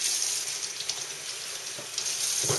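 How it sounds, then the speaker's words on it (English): Warm water trickles and splashes from a tap onto a thin, light kitchen towel used in bread making, a soft, continuous flow with small gurgles and a slightly louder gush near the end. "A little bit of warm water on it."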